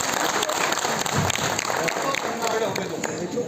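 Dense, steady applause from a seated audience filling a university conference hall, a sustained wash of many hands clapping that holds level throughout with no voices rising above it.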